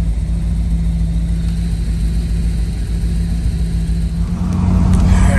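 A third-generation car with a newly installed distributor cap, rotor, ignition coil and ignition module runs on a test drive, its engine producing a steady loud rumble with a slight rise in intensity at the end.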